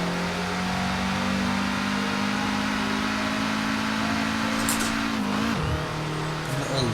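Peugeot 205 T16 turbo engine in Forza Horizon 4 holding a steady buzzing rev, then dropping sharply near the end with a brief shift clunk, loud and close throughout, no talk.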